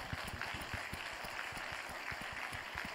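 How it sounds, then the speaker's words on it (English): Faint, distant clapping with a loose, fairly regular rhythm, as from a modest audience at a conference session, heard from afar. "please give a round of applause to all our speakers"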